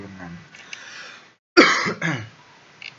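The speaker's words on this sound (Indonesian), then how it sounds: "Sorry, saya lagi batuk-batuk." A couple of harsh, close coughs after a brief pause, preceded by faint murmuring, with a smaller throat noise near the end.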